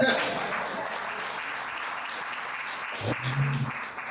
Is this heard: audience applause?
yes